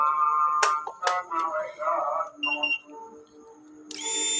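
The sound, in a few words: Honda Beat eco fuel pump running with ignition switched on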